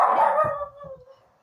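A single drawn-out dog bark or yowl, close by, tapering off into quiet.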